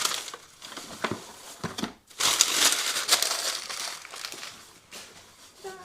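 A taped gift package is torn open on a live stream, with close, busy crinkling and crumpling of paper and tape in bursts, briefly pausing before louder rustling resumes.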